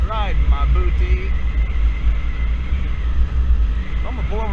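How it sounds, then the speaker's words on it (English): A cement truck rumbles close behind a Yamaha Zuma 50cc scooter on a park road, its deep engine drone loud and continuous while the rider talks briefly at the start and end. "I have a cement truck riding my booty."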